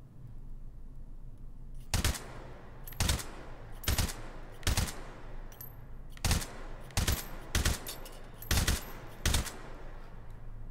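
A suppressed gun fires in a video game, with roughly ten sharp, fairly loud shots coming singly or in quick pairs at irregular intervals over a low steady hum.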